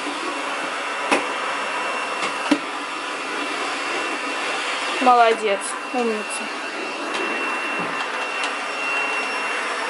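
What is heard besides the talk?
child vacuuming under a table with a vacuum cleaner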